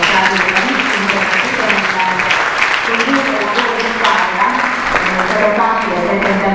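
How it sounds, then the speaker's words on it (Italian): Conference audience in Italy applauding at the close of a management seminar, a dense steady patter of many hands clapping throughout, with murmured voices mixed in. "propongo un applauso per tutti perché sono stati"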